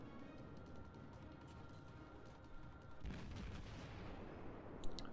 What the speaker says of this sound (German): ich schieße jetzt damit AP rein, dass ich hoffe, dass sie so ein bisschen konisch aufs Deck prallen